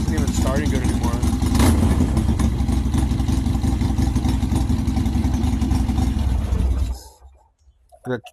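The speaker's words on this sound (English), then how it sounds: "First startup, I just changed the spark plug." A 1952 Chevrolet engine running at its first startup after new spark plugs were fitted, a loud, close, steady rumbling idle that cuts off abruptly near the end, followed by a brief faint sound.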